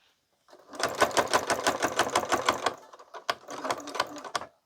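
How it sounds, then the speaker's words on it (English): A sewing machine stitches a fall quilt panel along the edge of a single layer in rapid, even, clattering runs. It stops briefly, then starts again, close and clear with no talk. "so I'm just going to stitch here till"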